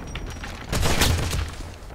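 Bursts of gunfire in the video game Wolfenstein, a sharp volley swelling midway and continuing in a loud, dense crackle of shots.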